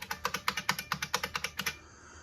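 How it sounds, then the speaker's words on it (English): Keys clatter on a clean IBM Model F keyboard, about a dozen loud, crisp buckling-spring strokes in a quick, even run, then the typing stops and leaves quiet room tone. "Difficult to get used to typing on, but a beautiful keyboard."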